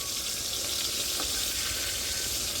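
Eggplant frying in a pan gives a steady, even hiss of hot oil throughout, with no talking.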